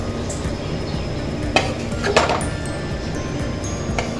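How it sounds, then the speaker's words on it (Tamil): Drumstick (moringa) fry being spooned from a pan into a bowl: scattered scraping and light metallic clinks of utensil on cookware over a soft, steady background hiss. "பவுலில் சர்வ் பண்ணிடுவோம்."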